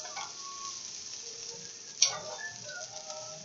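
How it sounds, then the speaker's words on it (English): Peppers sizzle in a frying pan for a broken linguini risotto with beef and vegetables, a steady hissing fry broken by a single sharp utensil clink partway through. "Okay, so this is sizzling pretty good, and it's pretty cooked up there."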